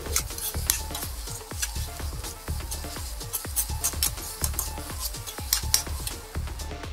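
Salted potatoes sauté in a pan while a spoon repeatedly scrapes and stirs them, giving rhythmic metallic strokes over a steady, close sizzle.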